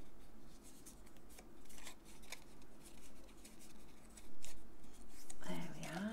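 Scissors snip through paper for a festive jingle bell craft, giving faint, close cuts in a loose irregular rhythm, with a voice speaking briefly near the end.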